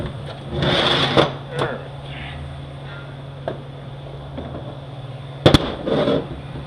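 An impact gun fitted with a socket rattles in two short, loud bursts while a transmission filter is fitted during a 518 (46RE) transmission rebuild, with quieter clinks of tools in between.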